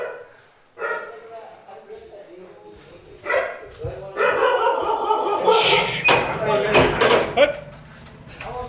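Street dogs bark and yip loudly in bursts, several barks overlapping near the end, with people talking at the start.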